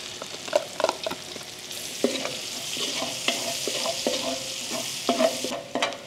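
Garlic and onion sauté in hot oil with a soft, steady sizzle, punctuated by sharp scraping and tapping of a spatula stirring the pan up close.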